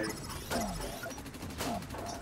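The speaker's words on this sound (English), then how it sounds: "Oh, I'm getting shot at already." Gunfire in the Dust 514 shooter game: two bursts of rapid shots about a second apart, moderately loud over steady background noise of the battlefield.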